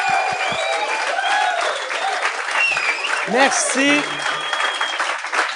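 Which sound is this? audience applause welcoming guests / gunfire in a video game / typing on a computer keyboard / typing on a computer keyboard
audience applause welcoming guests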